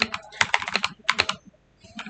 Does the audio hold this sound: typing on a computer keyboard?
yes